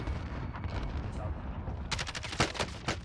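Gunfire in Call of Duty: Modern Warfare II, a burst of sharp shots followed by several louder cracks over a dense rumbling game backdrop, with no talk during the shooting.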